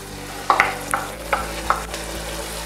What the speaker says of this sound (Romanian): Așa, îl călim un pic cu ceapa.